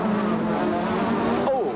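Grand National Sport Trucks race side by side on a Las Vegas track in 1994, with a steady, loud engine drone. A sharp rising and falling pitch sweep near the end sounds like a truck passing, and a commentator talks over it.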